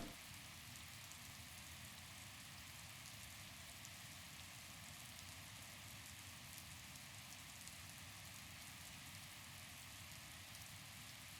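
Steady rain pours in The Legend of Zelda: Breath of the Wild on the Switch, a continuous broadband hiss of drops hitting the ground that runs unbroken and even at a moderate level, with no talk over it.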